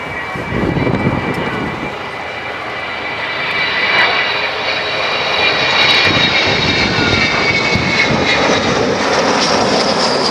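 Aircraft powered by six Rolls-Royce Olympus engines passes at an air display, a loud, continuous engine roar that swells and holds throughout with a rising whine, no talk.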